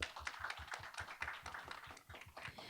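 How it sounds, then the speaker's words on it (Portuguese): Audience applause at an AI summit warm-up, heard as distinct separate claps in a loose, fairly quick rhythm, moderately close, from what sounds like a modest group with no talk over it. "Eu acho que ele merece uma salva de palmas, por favor."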